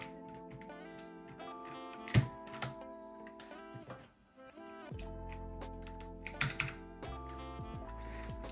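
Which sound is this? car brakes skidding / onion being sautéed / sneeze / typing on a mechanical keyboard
typing on a mechanical keyboard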